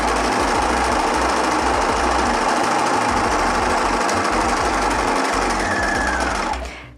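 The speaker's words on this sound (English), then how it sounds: "I'm going to take it to the sewing machine." Sewing machine stitching a seam in fabric, with a steady, loud, rapid mechanical whirring and clatter running continuously at close range before winding down at the end.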